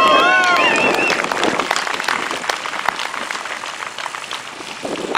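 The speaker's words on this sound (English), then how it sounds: "Can I have you please give them a nice round of applause?" Crowd applause at a Toys for Tots motorcycle run gathering in Colorado Springs, welcoming a mounted color guard; steady dense clapping fills the clip at close range, with a brief voice-like tone near the start.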